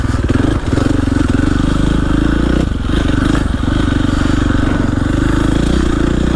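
A dirt bike engine roars loud and close through the whole ride, a steady motocross drone with brief dips in throttle and some clatter from the trail.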